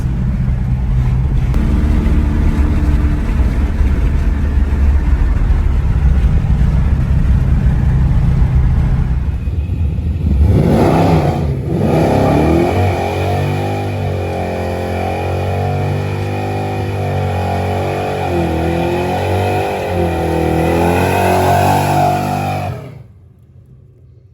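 Drag race cars lined up at a drag-and-drive event, engines loudly rumbling and revving, with a heavy low idle at first and then a strong rising, wavering rev as a car pulls close before cutting off.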